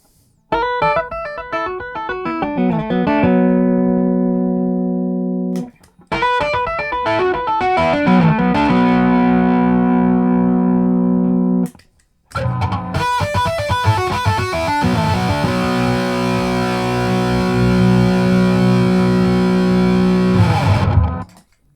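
Heavily processed, distorted Chapman Stick played through its bridge pickup plays sustained chords and riffs in three loud passages separated by brief silences.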